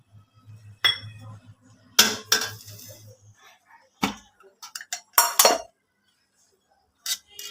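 Oil poured from a small bowl into gathiya dough, heard as several sharp clinks and knocks of the steel bowl against the vessel, with brief pauses and a low hum early on.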